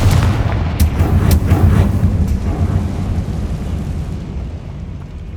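Heavy, booming blasts from Confringo fire spells in Hogwarts Legacy roll out in quick succession, each deep explosion overlapping the next and trailing into a long rumbling decay, loud and close with no voices.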